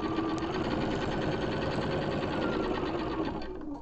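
Sewing machine back stitching through the stiff fabric of a crazy patch basket, a loud continuous rapid mechanical whir that slows slightly near the end, with no talking.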